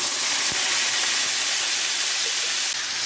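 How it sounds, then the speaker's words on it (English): Green beans and bacon steaming in a hot pot on a farm kitchen stove, a loud steady hiss that runs unbroken throughout, with no talking. "we're really cooking, so this is going to steam"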